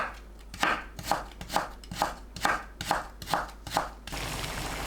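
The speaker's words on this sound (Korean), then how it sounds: "감자와 당근을 곱게 채 썰어주세요" Eight rhythmic knife chops julienning potatoes and carrots strike a cutting board at an even pace, close and crisp, then give way to a soft steady hiss.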